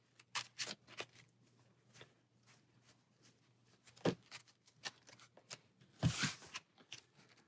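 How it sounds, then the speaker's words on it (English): Marvel Champions cards riffled and shuffled by hand, a series of soft papery flicks and snaps with a louder burst of riffling near the end. "Pietro shuffles his deck."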